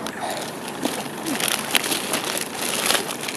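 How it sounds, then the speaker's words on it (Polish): Plastic shopping bag rustled and crinkled while groceries are repacked into it, a steady nearby crackling with a few sharper crunches throughout, no talking. "Muszę się przepakować, bo się nie mieszczę w reklamówkę."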